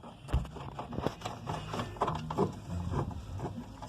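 A screw is driven in to hold the transmission of a damaged washing machine, heard as close ratcheting, clicking metal-on-metal turns with knocks and scrapes in an uneven rhythm.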